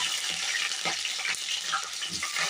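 Green chillies frying in hot oil for a mutton curry tempering give a steady, close crackling sizzle with a few brief spits over it, no talk.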